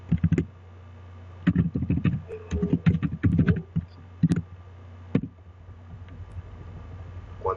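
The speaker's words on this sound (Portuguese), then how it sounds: "vou digitar um pequeno comando PHP" A PHP command is typed on a computer keyboard in quick bursts of close, crisp key clicks, separated by short pauses and a few single taps, with a low steady hum underneath.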